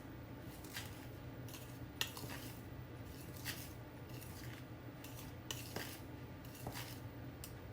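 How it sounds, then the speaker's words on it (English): A spoon stirring flour with baking soda, baking powder and salt in a bowl for cookie dough, with soft scraping and rubbing and several sharp clinks against the bowl, quiet and close. "And I'm going to mix that in the flour, and I'm going to stir it up a little bit."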